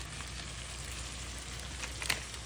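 Masala with coriander and chili powder sautés in hot oil for a fish curry, a faint, even sizzle and hiss with a brief louder crackle near the end, no talk.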